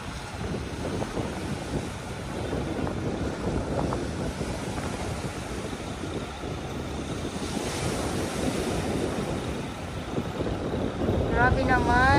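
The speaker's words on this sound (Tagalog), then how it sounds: "Grabe naman yung hangin talaga." Strong wind and surf at the Manila Bay beach, with continuous gusty rumble buffeting the microphone over crashing waves, building louder toward the end; a voice speaks briefly near the close.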